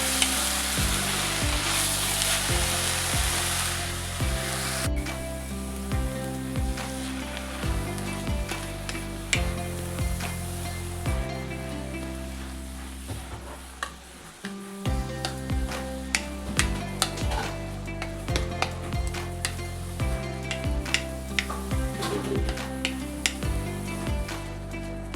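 Spinach wilting in a hot pan for a cheera thoran, a steady loud sizzle and frying hiss that runs throughout, with a brief dip midway before the crackle picks back up.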